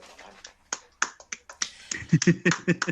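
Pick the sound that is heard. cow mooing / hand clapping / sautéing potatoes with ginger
hand clapping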